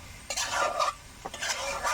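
Spoon stirring cauliflower, potato and egg curry in a pan, a few short scraping strokes in an irregular rhythm with faint sizzling, close and alone.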